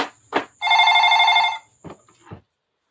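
A telephone bell rings once in a sustained loud burst, bracketed by short clicks and knocks before and after, with no talking.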